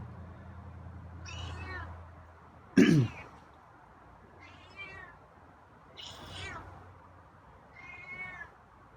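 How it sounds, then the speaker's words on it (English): A feral cat lets out several moderate meows, spaced a second or two apart, with a loud, sharp throaty sound midway and a low hum underneath. "That's a nice meow."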